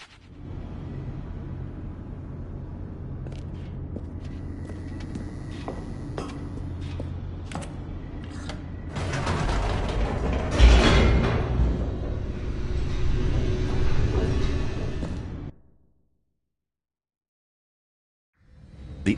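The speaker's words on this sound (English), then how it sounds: "The elevator raced downward, plummeting towards an unknown fate." Elevator descending in The Stanley Parable, a low mechanical rumble with scattered creaks and clicks that swells into a louder grinding rush before cutting to silence, with no voices.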